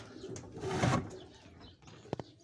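Pigeons in a loft give faint, low cooing amid soft rustling, with a couple of sharp clicks near the end; the sound is quiet and somewhat distant.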